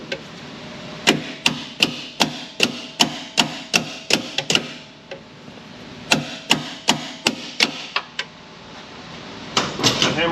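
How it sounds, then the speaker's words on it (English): Repeated sharp hammer strikes on a 2000–2006 Chevrolet Silverado/GMC Sierra GMT800 5.3 truck's steering parts, in quick, steady runs, about a dozen blows, a pause, then another burst of hits, close and loud. "The hammer's not good enough."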